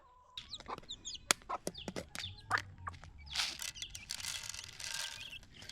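Chickens and chicks on a poultry farm, with repeated close clucks and sharp chirps scattered throughout, building into a denser burst of calls near the end over a low background murmur.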